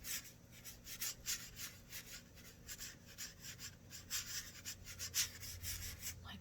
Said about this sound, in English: take my clean brush and rub it out some